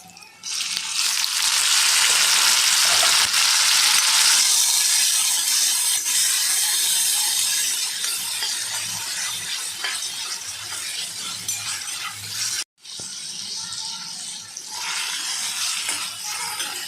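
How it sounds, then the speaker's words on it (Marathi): Tomatoes frying in a pan for sambar, a loud steady crackling sizzle with occasional scraping that eases slightly over time, briefly cut out near the end before resuming. "टमॅटो आपले चांगले परतून होत आहेत"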